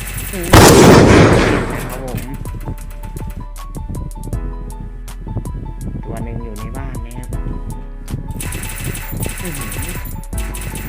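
Gunfire in the mobile shooter game Free Fire: a loud burst of shots near the start, then scattered lighter shots among game effects and music, with someone talking throughout.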